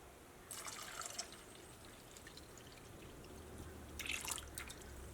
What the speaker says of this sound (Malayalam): അപ്പോൾ ഇതിലേക്ക് നമ്മുടെ ശർക്കരപ്പാനി ചേർക്കാണ്.